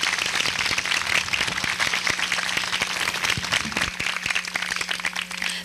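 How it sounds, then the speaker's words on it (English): Audience clapping at a school day event in 2014, steady dense applause throughout, fairly loud and continuous with no talk. "Can we give them one more big round of applause as they return to their seats?"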